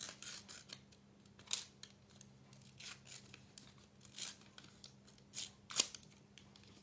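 Paper for a vintage junk journal is torn by hand in a run of short, soft rips and crinkles, a handful of separate tears spread unevenly, close and quiet with no talk.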